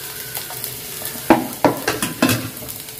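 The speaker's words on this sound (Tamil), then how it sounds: "வெங்காயம் மிளகாய் நல்லா வதங்குறது நல்லா எண்ணெய் சூடாரட்டு" Chopped onions and green chillies sautéing in hot oil in a pan, with several sharp spoon-scraping stirs over a low sizzle and no talking.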